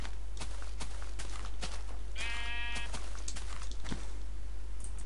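A sheep in the Minecraft video game bleats once in a wavering, nasal cry, heard mid-scene among soft game footsteps and clicks with no talking over it.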